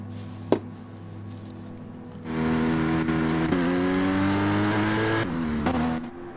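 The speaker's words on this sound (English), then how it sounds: "Our drivers now entering the track, all prepped" GT4 race cars in a racing game rolling onto the track at Alsace, with a sharp click and then a loud engine drone rising in pitch as they accelerate, easing off and revving again near the end.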